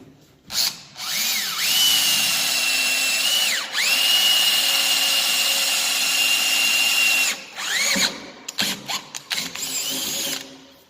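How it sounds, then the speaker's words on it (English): A power drill with a 3/16 bit whines loudly as it bores through the top of a wood cap rail, running in two long pushes with brief pauses, then a few short bursts. "We're going to drill through the top."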